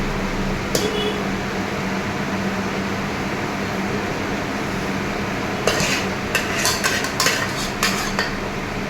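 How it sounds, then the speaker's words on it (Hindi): Leftover cooked rice spooned into a pot of chicken biryani, metal utensil scraping and clinking against the pot in a quick burst after a long stretch of steady kitchen fan hum. "अब मैं इसमें डाल दूँगी चावल जो हमारे बचे हुए थे"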